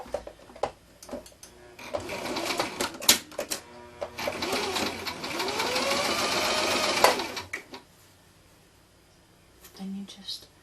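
A sewing machine stitches trim onto dog clothing, with short bursts of whirring, a longer steady run in the middle, and clicks and handling noises between, over faint quiet talk.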